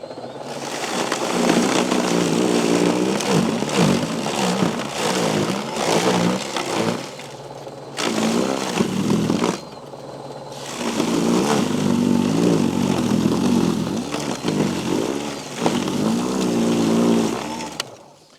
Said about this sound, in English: let's see if this power shovel can do anything if we just go into it